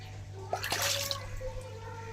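Water splashes and trickles out of the outlet of a tank holding shing (stinging catfish), with a brief burst of splashing over a steady low hum and faint background voices.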